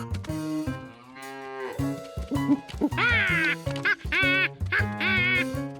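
Cartoon cows moo repeatedly in loud, drawn-out calls close by, mixed with higher squawking, quack-like cries that overlap and bend in pitch, from the Polish dub of Curious George.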